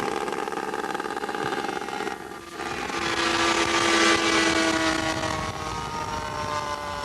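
Droning engine of a radio-controlled P-38 Lightning scale model aircraft at a scale model flying event, a steady buzzing whine that dips briefly, then swells louder and holds.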